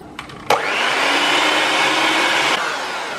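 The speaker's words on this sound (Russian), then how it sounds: "Хорошо взбиваю желтки с сахаром до бела." An electric mixer whisks egg yolks with salt and sugar for a kulich batter, a loud steady whir that starts abruptly, holds for about two seconds and then cuts off.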